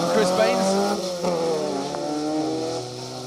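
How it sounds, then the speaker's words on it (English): A Ford Fiesta XR2 rally car with a 1600 crossflow engine revs hard on a historic rally stage, its engine note rising and shifting as it passes, under a commentator's voice. "There's that little Fiesta XR2, little 1600 crossflow inside that Fiesta, being pedalled well by Arnaud Tortel and Chris Baines"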